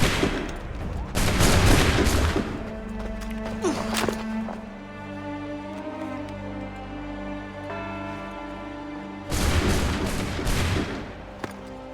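A musket volley in Assassin's Creed 3 erupts as a loud burst of overlapping gunshots, followed by a quieter stretch of game music and sound effects, then a second dense crackling volley near the end.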